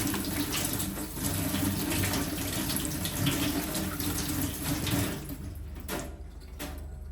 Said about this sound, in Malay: Dan boleh bilas dengan air yang bersih.